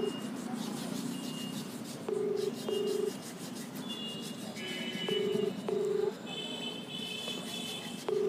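Telephone call tones over a phone line: short regular ringback beeps repeating every second or so over a steady hiss and hum, with a few brief higher tones layered in.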